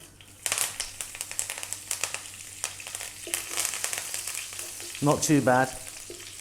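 Cumin seeds and fresh curry leaves hit hot oil for a chicken curry, bursting into loud crackling sizzle and sputtering pops over a steady fry. A voice speaks briefly near the end.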